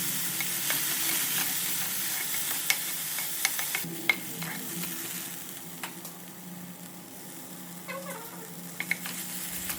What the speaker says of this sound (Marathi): आत्ता कढईमध्ये तेल टाकून कांदा, टोमॅटो, आलं लसूण पेस्ट घालून छान परतून घ्या